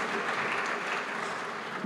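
A crowd at the ZK Hack Lisbon hackathon kick-off claps for the event sponsors, a dense, even patter of applause sustained throughout the short moment.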